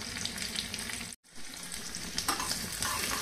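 Indian tadka spices sizzle and crackle in hot oil, a steady close frying hiss with one brief break and a stir.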